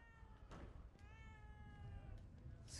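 In the video game The Evil Within 2, a cat gives a couple of drawn-out meows, faint against a steady background hum, with a brief click near the end.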